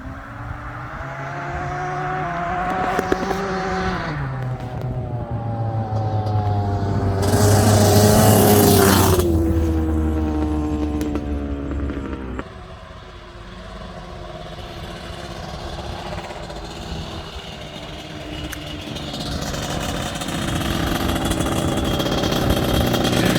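A fast quad ATV engine rides through repeated revs, rising and falling in pitch. A hard, loud surge peaks midway, then drops off sharply before a gritty engine drone picks up again.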